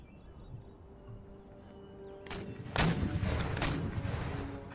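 Cannon artillery fire in the strategy game Empire Total War: a couple of sharp, booming blasts in the second half, the first rolling into a heavier volley, rising over quieter ambient battlefield noise.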